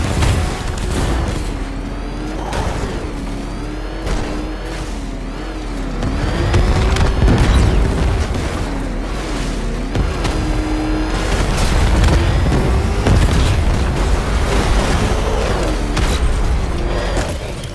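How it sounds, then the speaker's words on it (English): Explosions as a factory collapses in the video game Batman Arkham Knight: loud, continuous rumbling booms and crashing debris that swell over the clip, with a steady musical tone underneath and no talking. "The factory's tearing itself apart."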